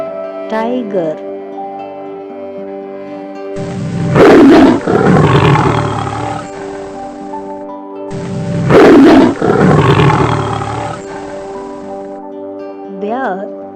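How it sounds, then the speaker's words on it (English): A tiger roars twice, each a loud, rough, drawn-out bellow lasting a couple of seconds and separated by a pause, set against background music. "tiger"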